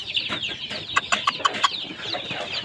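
Chickens and chicks of Rhode Island Red, Hubbard and heritage breeds on a farm, a steady chorus of close clucking and peeping with several sharper, louder chick calls near the middle.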